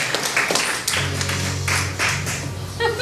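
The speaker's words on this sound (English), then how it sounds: "Let's give Elise a big round of applause" Audience applause at a comedy club show in Pasadena, a short burst of scattered clapping from the crowd with a low hum underneath, fairly close.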